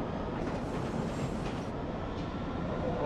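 A London Underground train rumbles steadily throughout, a dense low roar with a faint hiss above, close and continuous with no voices.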